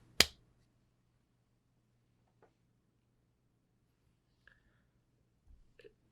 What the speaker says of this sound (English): I'm gonna clap and then I'll ask you my question.